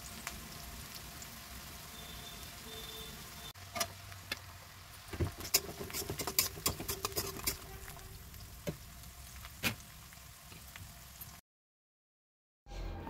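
Vegetables sizzle and crackle steadily in a frying pan for home cooking, with scattered sharper pops through the middle, then the sound cuts out abruptly near the end.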